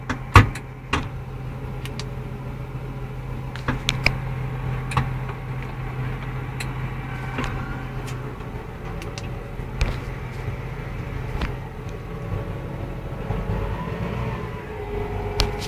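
A New Holland T7070 tractor pulls away slowly, its low engine drone steady under a scatter of sharp clicks, knocks and mechanical taps from the cab, heard close with no talking.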